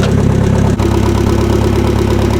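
Propane-fuelled Nissan 30 forklift engine running nearby, a loud, steady low idle rumble with a brief dropout of sound partway through.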